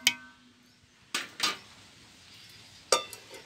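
Metal lid placed on a pot of cooking chicken curry for biryani, a few sharp clanks and clinks spaced apart, close and clear with quiet between them.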